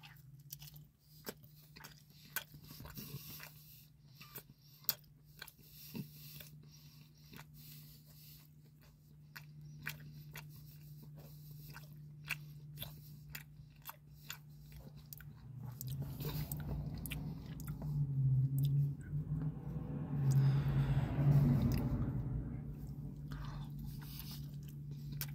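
Someone bites into and chews a Taco Bell burrito close up, with soft repeated crunchy mouth sounds that build and grow louder and denser toward the end, and no talking.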